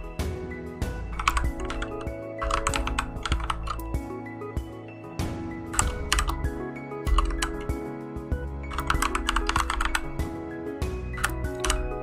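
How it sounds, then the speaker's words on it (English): Typing on a computer keyboard while researching cryptocurrencies, close and steady bursts of key clicks in uneven rhythmic runs, with pauses between flurries over a faint background hum. "I'm just not very good at talking and typing at the same time."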